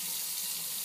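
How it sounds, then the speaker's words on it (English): Hot water runs from a sink faucet in a tiny house, fed by an on-demand propane water heater, giving a steady, close rushing hiss that holds level for just under a second with no talk. "Hot water is from an on-demand propane hot water heater. And you can hear it kicks on as soon as you turn on the hot water."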